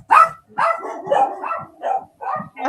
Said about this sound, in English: Both dogs are going off.